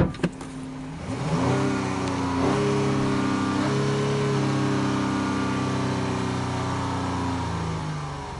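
A 2013 Dodge Durango with 121K miles starts right up with a sharp crank burst, then settles into a steady, close engine idle with a brief rev, running evenly until it fades at the end.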